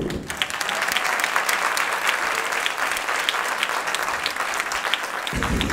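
Audience at a live stand-up comedy show in a cultural venue breaks into loud, sustained applause, a dense wash of clapping that holds steady for several seconds before stopping abruptly near the end.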